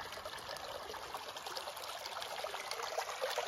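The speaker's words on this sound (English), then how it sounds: "Here is a clear and sandy stream." A clear, sandy-bottomed stream along a hiking trail, flowing with a gentle, continuous trickle and babble, faint and steady, with no voices over it.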